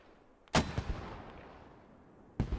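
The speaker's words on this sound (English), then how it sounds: "Does look like these mortars are hitting just to their west on this massive insurgent push." Mortar fire in the Squad video game, with two sharp, booming impacts about two seconds apart, the first followed by a few smaller cracks and a fading rumble, heard at moderate distance.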